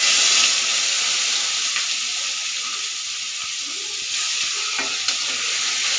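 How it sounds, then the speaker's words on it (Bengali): Ground spice paste of cumin, coriander, black pepper, whole garam masala and ginger, with a pinch of asafoetida, fries in a kadai for matar ghugni. It gives a loud, continuous sizzle with a few soft stirring knocks. "বেটে রাখা মশলা কড়াইতে দিয়ে দেবেন"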